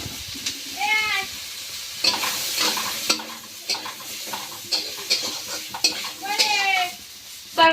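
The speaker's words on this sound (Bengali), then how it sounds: "ওই তেলে না একটু তোমার আলু আর পেঁপেটা হালকা একটু ভেজে ভেজে নেবো" Potato and papaya frying in a little oil in a wok, giving a steady close sizzle broken by scraping stirs and clatter of a utensil against the pan, with occasional high squeaky tones.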